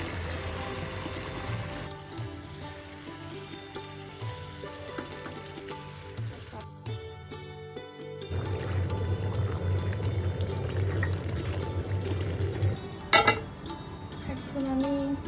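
Chicken pieces go into hot oil and spiced masala in a pot, a brief pause then a loud steady sizzle of frying that swells and continues, with clinks of utensils.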